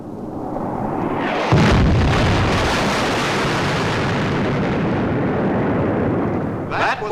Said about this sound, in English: That was a sonic boom.